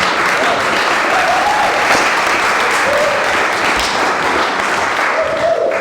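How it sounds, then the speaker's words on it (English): An audience at an evening club talk gives the speakers a loud, even round of applause that holds steady for about six seconds, with faint voices underneath. "So if we can give Andre and Krystal a big round of applause."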